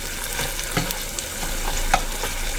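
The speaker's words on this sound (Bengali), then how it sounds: "একটু লাল লাল করে ভাজা দেব যাতে খাইতে টেস্ট হয়" Pumpkin flower fritters frying in oil, a steady close hiss of sizzling with a few soft stirring scrapes and light clicks throughout.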